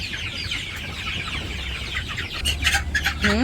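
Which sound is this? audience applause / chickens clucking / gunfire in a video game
chickens clucking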